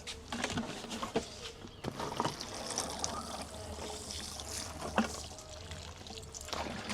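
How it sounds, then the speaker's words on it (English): Water from a watering can splashes and trickles onto pumpkin plants and soil outdoors, a soft uneven pouring with small drips and rustles, fairly quiet and close. "Again, a good water."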